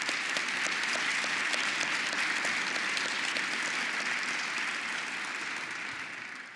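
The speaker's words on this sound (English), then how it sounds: "They deserve applause." Steady, moderately loud applause from a crowd at a city council swearing-in ceremony, filling the room for several seconds before slowly fading.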